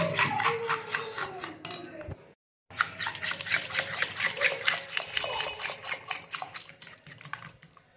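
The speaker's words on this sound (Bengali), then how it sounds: "বেকিং পাউডার আর লবণ দিয়ে ভালোভাবে আমি মিক্স করে নিচ্ছি।" A utensil whisks a thick batter with baking soda, baking powder and salt for sugar-free patisapta, making rapid, continuous clicking and tapping strokes against the bowl, close and busy, with a brief pause midway.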